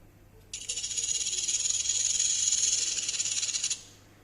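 A snake gives one sustained, sharp hiss, rising abruptly, holding steady for about three seconds with a slight pulsing texture, then cutting off, close and clear against near silence.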